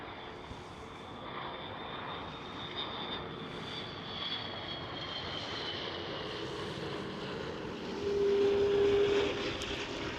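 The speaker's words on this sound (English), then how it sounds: "Right here we do have KLM A330, a butter machine." A KLM Airbus A330 airliner coming in to land at Schiphol Amsterdam, its engines a steady distant roar with a thin whine that swells somewhat louder near the end, with no talking.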